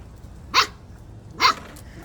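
A dog barks twice, loud and close, with a short pause between the two sharp barks and no voices around them.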